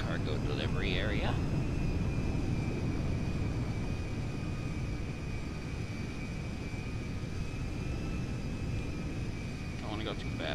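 A cargo airplane taxis in the FiveM Transport Tycoon game at Zancudo, a constant loud engine drone running without a break, with a brief voice-like chirp at the start and end.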